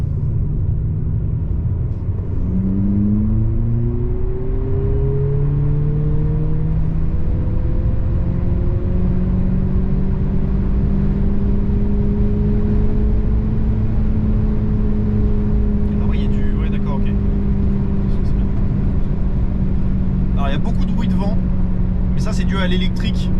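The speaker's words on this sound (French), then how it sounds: "on entend tout de suite le bruit du vent sur la carrosserie dès qu'on monte en vitesse" An electric Abarth 500 accelerates onto an expressway, with a steady whine of the electric motor rising in pitch over a constant broad rush of wind and road noise, and a few faint ticks near the end.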